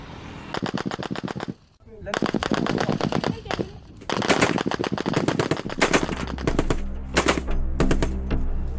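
12.7 mm heavy machine guns firing live rounds during a Malian army assault exercise, loud rapid bursts of automatic fire in long strings with short pauses, and a voice talking in places.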